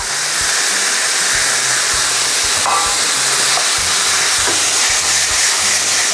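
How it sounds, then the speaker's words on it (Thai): Mushrooms and konjac stir-frying in a hot pan, a steady loud sizzle with faint scraping and stirring bumps. "เราจะผัดอีกสักครู่หนึ่งเดี๋ยวเราค่อยกลับมาดูกันค่ะ"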